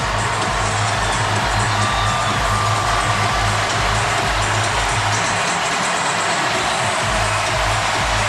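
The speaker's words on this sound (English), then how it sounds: "Auburn's defense asking their crowd to help the cause." A packed Auburn stadium crowd roaring during an LSU third down in a college football game, a dense, continuous wall of cheering and noise that holds steady and loud throughout.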